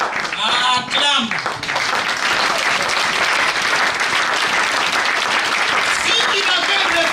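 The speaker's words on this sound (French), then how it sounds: "Acclame." Dense applause fills a church assembly, loud and sustained from start to finish, with a few voices mixed into the clapping near the beginning.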